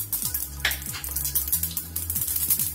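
Mustard seeds tossed into hot oil in a pan crackle and sizzle with quick popping bursts, close up, alongside clinking utensil sounds and a low hum, without talk.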